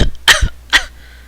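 A dragon's fit of coughing, read aloud: two sharp, loud coughs close together, each a harsh burst with a rough throaty tail, then quiet.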